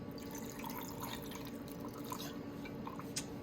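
Apple schnapps pours into a cocktail in a steady, continuous liquid trickle with light dripping texture, close and fairly even for the whole stretch, with no talking.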